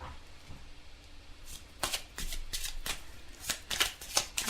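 Tarot cards being shuffled and drawn by hand, heard close up as a run of quick, crisp riffling and snapping bursts in an irregular rhythm, with no talking.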